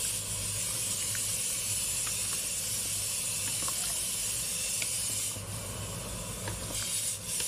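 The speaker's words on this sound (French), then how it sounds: "On mélange et maintenant on va laisser mijoter pendant 20 minutes" Tomato sauce seasoned with salt, pepper, cumin and paprika simmering in a pot, a continuous close hiss with small scattered pops and bubbles, no talking.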